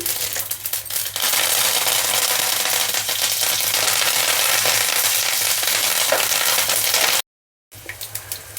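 Garlic cloves and curry leaves frying in hot tempering oil for an onion and fresh coconut curry: a loud, steady close sizzle with crackling pops that flares up and runs continuously, briefly cut off near the end.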